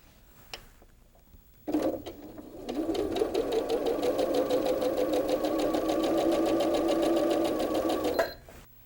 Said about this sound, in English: I'll take that to our sewing machine, matching up your edges